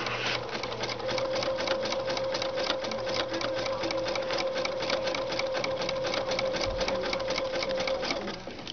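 A domestic sewing machine runs a zigzag stitch in a sewing shop, a steady fast mechanical clatter with an even rapid rhythm and a constant motor hum, heard close and alone for about eight seconds.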